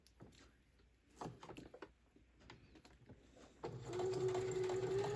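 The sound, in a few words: sewing machine chain stitching a cosmetic pouch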